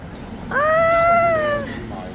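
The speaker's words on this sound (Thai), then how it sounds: "แมวน่ารักเชียว" A cat on a Shanghai street gives a single clear, drawn-out meow of about a second, close by and standing out over a steady hum of street noise.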